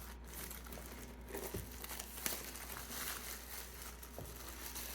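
Plastic wrap is peeled off an Obsidian Flames trainer box, giving a steady close crinkle with a few crisp tearing snaps over a low background hum.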